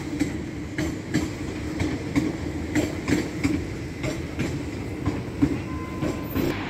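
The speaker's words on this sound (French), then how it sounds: "Voilà la sortie de la gare de Montparnasse. Et là vous avez un TGV." TGV train pulling out of Montparnasse station in Paris, with wheels clacking rhythmically over rail joints under a steady rumble, fairly close and continuous, with a faint squeal near the end and no voices.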